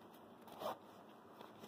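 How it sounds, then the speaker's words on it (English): A zipper slides open on a small pocket of a new school book bag, one short scratchy burst close by in a quiet room. "it's a zipper one"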